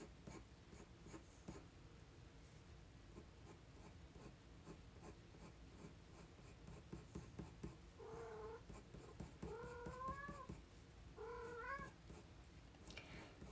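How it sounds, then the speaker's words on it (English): A house cat meows loudly several times in the last seconds, its rising calls standing out over steady colored-pencil scratching on paper in a quiet indoor room. "I don't know if you guys can hear the cat there"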